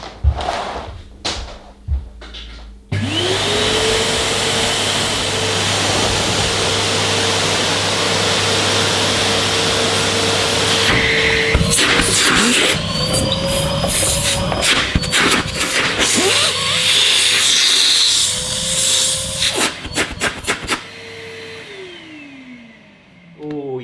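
A restored Henry Pet vacuum cleaner is handled with a few thumps, then switches on with a rising whine and runs as a loud, steady roar with pitch wobbles, clunks and brief bumps before spinning down.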